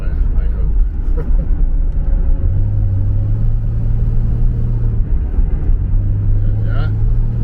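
Inside a moving car whose engine now idles better after repairs, a loud low rumble runs throughout with steady engine tones rising in pitch, while a person talks over it.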